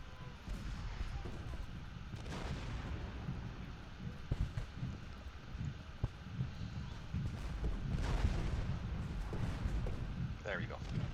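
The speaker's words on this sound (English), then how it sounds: "Let's get this cannon firing here." Cannon firing canister shot in the Civil War strategy game Ultimate General Gettysburg, several dull booming reports scattered over a rumbling battlefield din, moderately distant, with someone talking over the action.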